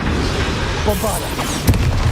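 A Bombarda explosion spell from the Hogwarts Legacy video game goes off as a loud, deep boom with a short burst near the end, set against a busy battle backdrop.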